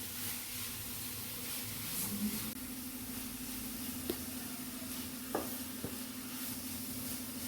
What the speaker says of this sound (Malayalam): അത് രണ്ടും ഇട്ട് കൊടുത്ത് നന്നായി ഒന്ന് മിക്സ് ചെയ്ത് കൊടുക്കാം